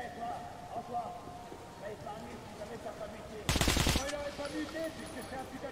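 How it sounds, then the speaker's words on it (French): A short, loud burst of automatic gunfire in the video game Metro Last Light cuts in briefly over quieter game ambience and music, with no talking. "Moi je tire dans le tas"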